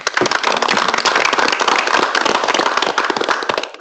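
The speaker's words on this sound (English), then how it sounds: "we can just do a round of applause for our speakers" A meeting audience applauds its speakers: a loud, dense burst of hand clapping lasting a few seconds, close and continuous before tapering off at the end.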